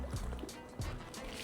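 A wash towel dunked and sloshed in a car wash bucket of water, giving soft gurgling, splashing water sounds, fairly quiet and close.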